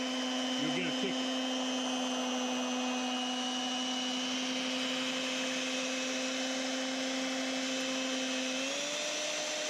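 Electric hand mixer whirring steadily while mixing homemade apple butter, a strong continuous motor tone that shifts slightly in pitch near the end as the speed changes, close and loud throughout.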